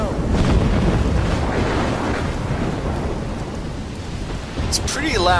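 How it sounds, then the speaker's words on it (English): Thunder rumbles deep and loud through a heavy storm in the video game Life is Strange, with rain and wind noise filling the background and a short high sound near the end. "It's pretty loud. Can you still hear me? It's a big storm."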